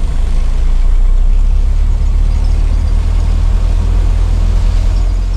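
A truck engine idles and rumbles steadily at close range while the truck is being parked, a loud low drone that stays constant throughout with no voices.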